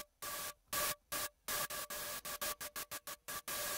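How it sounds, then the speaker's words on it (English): Harsh bursts of white noise switch on and off, starting with slower pulses and then cutting into quicker, choppier bursts. "that is just from white noise"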